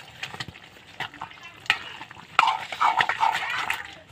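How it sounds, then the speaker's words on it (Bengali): A spoon stirs Echor jackfruit and prawn curry with garam masala in a pan, producing scraping clinks and soft wet sizzling, busier in the second half. "আমি ভালো করে এবার মিশিয়ে নেব"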